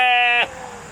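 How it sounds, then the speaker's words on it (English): A single sheep at a sheep farm gives a clear, close, tonal bleat lasting under half a second, followed by quieter background noise. "Okay, guys, I'm gonna feed the sheep."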